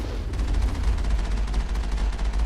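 Gunfire and slow missiles in the video game Mass Effect, a dense continuous burst of rapid shots and thuds held at steady loudness for a couple of seconds, no voices.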